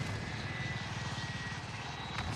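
Steady loud rotor and engine drone of a helicopter killstreak in Modern Warfare, continuous and close with a throbbing low pulse throughout.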